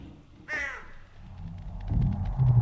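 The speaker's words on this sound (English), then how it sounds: "Birds." A crow caws once, close and harsh, in Ravenholme in the video game Half-Life 2, followed by rising low rumbling ambience and faint ticking.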